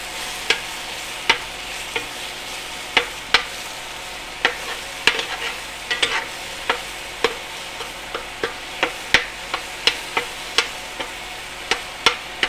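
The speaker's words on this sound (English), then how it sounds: "Go there, and then we're gonna mix it all up." Sugar is stirred into tomato sauce for Louisiana Cajun catfish courtbouillon, a utensil knocking the pot in a steady series of sharp clicks over a soft simmering sizzle.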